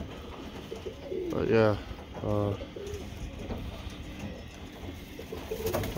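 Birmingham Roller pigeons in a kit box give two distinct low, throaty coos close by over a steady background hum, with a brief word of speech near the start.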